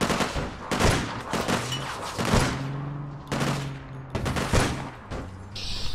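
Repeated bursts of gunfire in the video game APB Reloaded, several loud, close volleys at an uneven rhythm, with no talking.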